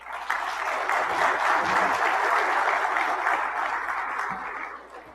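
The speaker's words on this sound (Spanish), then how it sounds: "Démosle un fuerte aplauso, por favor." Audience applause at a session on sustainable infrastructure, a sustained dense burst of clapping that starts abruptly, holds steady for several seconds and then thins and fades, with no talking.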